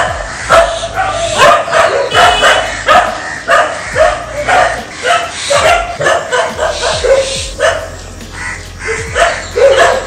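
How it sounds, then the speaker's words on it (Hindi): Many dogs bark in loud repeated bursts, overlapping yips and whimpers coming from several animals close by, while people talk intermittently underneath. "इतने सारे कुत्ते भौंक रहे हैं"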